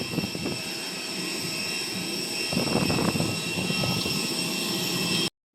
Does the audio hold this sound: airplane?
yes